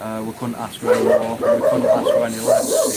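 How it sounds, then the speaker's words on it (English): Several dogs bark and yelp in the background while someone talks steadily over them, the barks fairly close and mixed under his voice. "Sorry about the dogs, guys."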